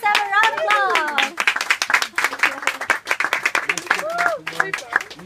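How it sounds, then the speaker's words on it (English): Applause and clapping from a crowd rise and continue, with people talking and calling out over the hands. "Let's have a round of applause."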